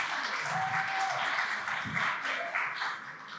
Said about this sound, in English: please give a round of applause for our speaker